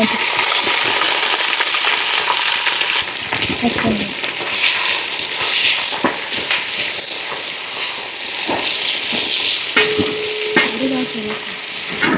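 Ingredients sizzle and fry in hot sesame oil for a homemade tuna pickle, a loud continuous crackling hiss with scraping stirs and occasional clinks of a utensil against the pan, close and steady throughout.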